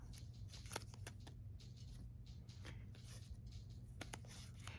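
Numbered paper slips are shuffled in a bowl, a faint run of dry papery rustles and soft scratchy ticks over a steady low background hum, with no talking.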